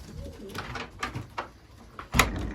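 Racing pigeons in a loft give a few soft, close coos and rustles, with a sharper knock or flutter near the end.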